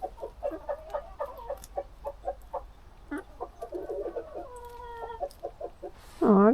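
Chickens cluck steadily in short, close bursts, with a louder squawk at the very end over quiet outdoor background.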